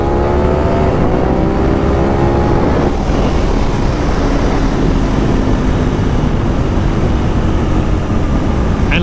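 Ducati 1098 motorcycle revving hard during a wheelie, engine pitch climbing and falling over the first few seconds, then a steady drone with heavy wind rush throughout.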